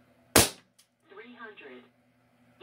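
An ASG Dan Wesson 357 CO2 pellet pistol fires a single sharp, loud crack close by, followed by a faint click, then someone speaks briefly.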